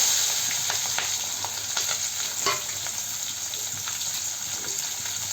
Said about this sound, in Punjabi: ਪਿਆਜ਼ ਨੂੰ ਹਲਕਾ ਹਲਕਾ ਭੁੰਨਾਂਗੇ ਆਪਾਂ